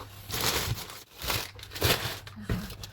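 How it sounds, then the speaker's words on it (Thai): A parcel of chili paste with pork being packed for shipping, with steady plastic crinkling and crumpling in close bursts. "ตอนนี้เราก็กำลังจะแพ็คของส่งนะคะ"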